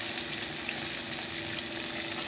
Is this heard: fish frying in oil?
yes